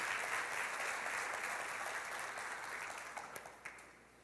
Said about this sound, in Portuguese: Todos, pode aplaudir o Senhor